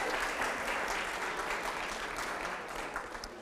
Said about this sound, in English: a round of applause for our quiz master as well